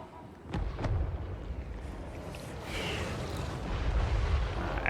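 Hell cannon artillery of the Chaos Dwarfs firing in Total War Warhammer 3 battle: a continuous heavy rumbling barrage with low booming impacts and crackling bursts layered over the roar.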